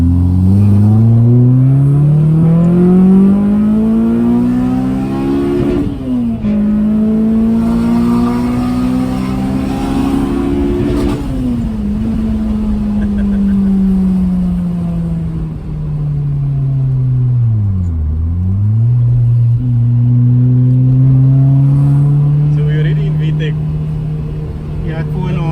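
Close, loud engine of a JDM-spec Honda EP3 Civic Type R with short gearing, climbing steadily through several long revving pulls into VTEC with brief dips at gear changes, a continuous rising wail that stays dominant throughout.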